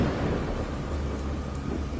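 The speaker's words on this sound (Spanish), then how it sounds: "La lluvia se estaba intensificando y caía con un repiqueteo" Heavy rain pours steadily while deep thunder rumbles beneath it, a dense, loud and continuous storm wash with no voices.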